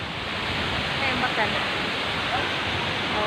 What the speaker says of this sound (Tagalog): I love Mantayupan Falls